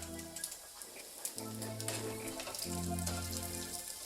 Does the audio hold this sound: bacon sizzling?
yes